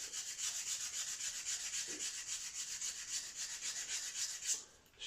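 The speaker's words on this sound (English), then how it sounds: "It's just a sander made out of a sanding stick." Rapid back-and-forth rasping of a sanding stick on wood parts for a model aircraft kit, even rhythmic strokes close up, stopping briefly near the end.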